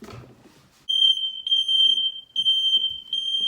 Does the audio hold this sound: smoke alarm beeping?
yes